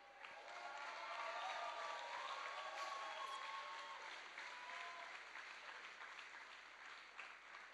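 A corporate boxing fight night crowd in Singapore applauds and cheers in a continuous dense wash of clapping with scattered whoops, holding steady and fairly distant throughout.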